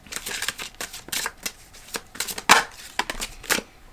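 Tarot cards being shuffled by hand to draw a card, a run of quick dry riffling slaps and flutters with an irregular rhythm and one sharper snap near the middle, close and alone.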